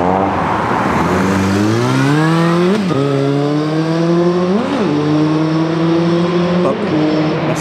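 A Yamaha TMAX scooter engine revs loud and close, its pitch climbing steadily and then holding at a high drone, broken by three quick blips where the revs dip and surge again. No voices are heard.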